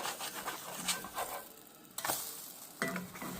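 Tortilla French toast sizzles in a frying pan, with soft scraping strokes and a few sharper clatters as pieces are flipped, quiet and close with no talking.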